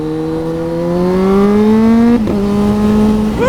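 A Kawasaki Z H2 motorcycle pulls hard under loud, close engine revs, the pitch climbing through a gear, then a brief break at a shift before it rises again.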